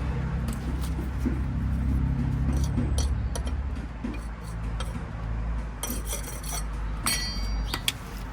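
Trowel or tool scraping at fresh mortar in brick joints during repointing, a dry rasping rub that recurs in short strokes close by, with a few sharper clinks near the end.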